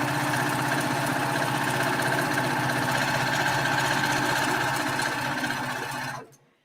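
An industrial sewing machine stitches fabric in a loud, continuous fast mechanical whir with a steady rhythmic chatter, running close up for about six seconds before stopping abruptly.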